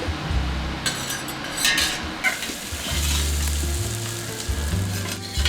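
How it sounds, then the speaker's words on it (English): Mirepoix vegetables sautéing in cooking oil in a pan for braised short ribs, a steady close sizzle with stirring scrapes and occasional utensil clinks throughout. "we're going to take our mirepoix, get it in the pan with a little bit of cooking oil,"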